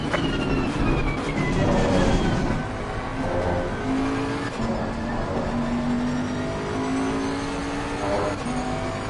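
Race car engines in Assetto Corsa Competizione at Imola, a loud continuous roar with rising and falling gear-shift whines as several cars run close together, no talking.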